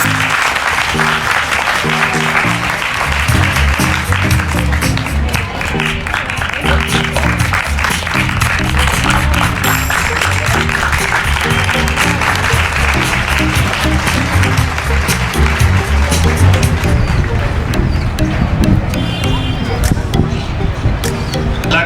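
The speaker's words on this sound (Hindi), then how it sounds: "तो आपकी भरपूर तालियों के साथ मिस्टर मोहसिन अहमद सिद्दीकी स्टेज पे आ जाइए।" Loud, sustained applause from an audience at an annual ceremony as a speaker is welcomed to the stage, steady and dense throughout with music and voices mixed in underneath.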